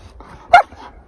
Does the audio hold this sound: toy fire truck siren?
no